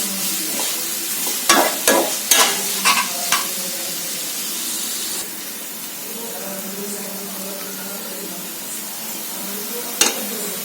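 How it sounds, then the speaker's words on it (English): Chopped onions sautéing in a pan over a medium flame for Amritsari chole, a steady close sizzle with a few sharp scraping stirs near the start and another near the end, no talking. "minutes of sauteing the onion on a medium flame"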